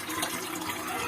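Cold water runs steadily over goat brain being rinsed clean, a soft continuous splashing and gushing close by with no talk.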